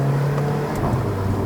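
A 2015 Mercedes-Benz A45 AMG with its M132 2.0-litre twin-scroll turbocharged four-cylinder holds a loud, close engine drone that swells slightly as it revs, heard from inside the car on a mountain road in Malaysia.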